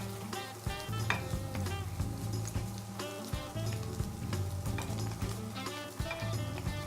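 Gnocchi dropped into a pot and stirred, with a constant low bubbling hum under repeated scrapes and knocks of a utensil against the pot, fairly close and steady throughout.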